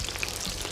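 Dense, steady sizzling and spattering rise from pelmeni dumplings frying in a kazan over an open campfire, heard up close with no talking.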